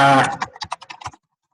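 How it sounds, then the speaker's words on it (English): A short burst of voice gives way to quick, uneven keyboard clicks, about a dozen close taps, then silence. "For some reason, the sound of typing is soothing to me."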